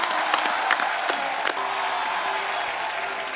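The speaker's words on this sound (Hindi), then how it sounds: "एक बार पूरी सारात टीम के लिए जोरदार तालियां हो जाएं।" Studio audience on an Indian TV comedy show applauds loudly for a film team, with dense, steady clapping and a few sharp claps standing out for several seconds.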